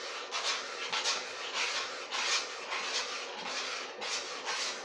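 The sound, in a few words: stirring béchamel sauce with a spoon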